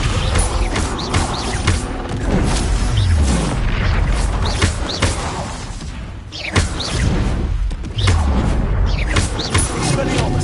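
Descendo spell impacts in a Harry Potter video game, loud booming thuds and whooshes over a dense, busy mix of battle sounds, continuous and close.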